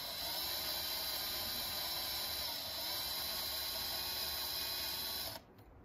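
A high-pitched power drill whines steadily as it bores through a 2008 Honda CRF100 engine case, close and continuous, then cuts out abruptly near the end.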